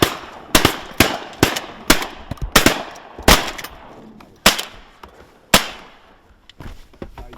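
Shotgun blasts on a snow goose hunt from a blind, a rapid volley of about a dozen sharp, loud shots from several guns, spaced irregularly and fading toward the end.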